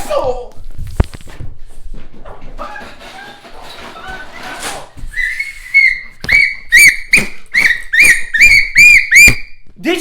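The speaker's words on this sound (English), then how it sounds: "Where's my whistle? I gotta get my whistle." Sharp, shrill whistle blasts ring out in a rapid series of short toots, loud and close, following a stretch of quiet rustling and footsteps.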